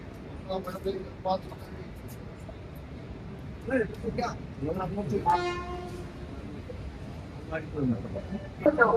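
The Amrita Express, a train hauled by an Erode shed locomotive, passes into Kollam station with a blast of its horn partway through, while people talk nearby over the station's rumble.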